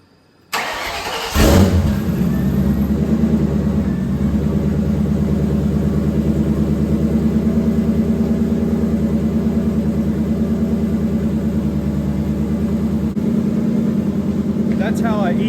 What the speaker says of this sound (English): That's how an E85 cold start should be.